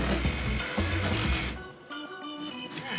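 A power tool cuts through a couch in a series of harsh, whining buzzes that stop and restart, loud and close, with a brief pause near the midpoint.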